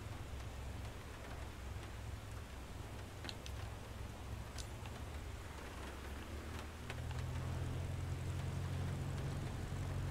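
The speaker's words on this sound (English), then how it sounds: "Look at all that rain." Steady rain hisses in the cockpit of a Eurofighter Typhoon in Microsoft Flight Simulator, with a low engine drone underneath that swells louder near the end and a few faint clicks over the constant wash.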